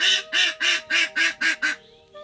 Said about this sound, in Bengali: তো হাঁসগুলো দেখো কেমন এখানে চিৎকার করছে আর কি।